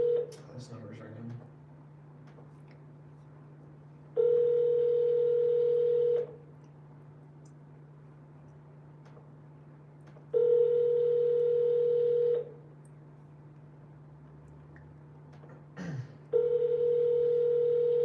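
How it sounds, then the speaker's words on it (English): A telephone ringback tone repeats three times, each burst about two seconds long, separated by pauses with a low hum, with brief speech at the start, while calling a Google Voice number. "This number's ringing."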